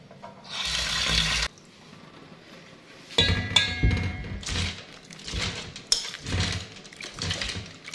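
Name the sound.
water being added to tamarind chutney mixture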